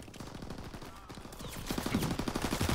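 Fast automatic gunfire in a Call of Duty online match, dense repeated shots growing louder toward the end, with a voice speaking over it.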